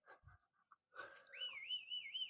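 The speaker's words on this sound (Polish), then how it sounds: "Dobra, gwiżdżę." In a hide-and-seek video game, a whistle rises and then warbles in a wavering two-tone trill after a few short soft blips, clear and fairly close.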